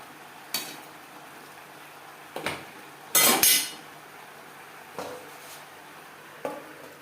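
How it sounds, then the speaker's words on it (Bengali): Mixed winter vegetables with salt and turmeric being stirred in a metal pan, a spoon scraping and clinking in several separate bursts with quiet gaps between them. "লবণ হলুদ সবজির সাথে বেশ ভালো করে মিক্সড করে দেবো"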